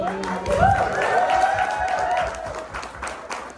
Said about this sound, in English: Let's just give one more round of applause to Giselle to